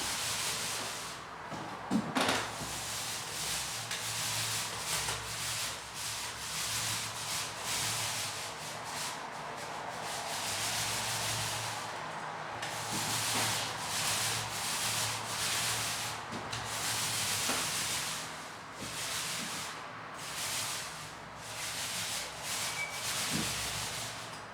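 A Purdy Marathon paint roller, the 4.5 inch model loaded with Zinsser Perma paint, rolls across a ceiling with a steady sticky rasping swish, in repeated strokes that rise and fall, close and fairly quiet.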